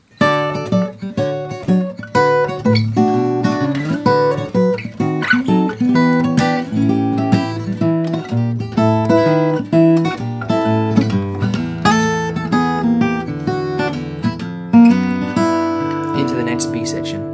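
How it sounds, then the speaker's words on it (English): Fingerstyle guitar plays a steady walking bass line with chords on top, clean and close, with no talking. "the walking bass A section sounds like this"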